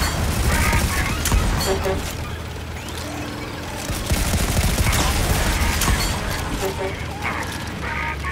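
Rapid gunfire and booming weapon blasts in the survival video game Volcanoids during a drillship battle, dense bursts of shots running throughout, loud and close, with brief voice sounds mixed in.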